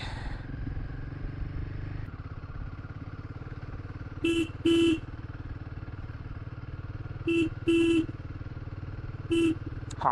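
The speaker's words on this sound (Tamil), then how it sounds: "ஹார்ன் அடிச்சு வர போகணும்." A motorcycle rides a misty mountain road near Valparai with a steady engine drone, while a vehicle horn honks in short pairs of toots three times, fairly near and loud over the engine.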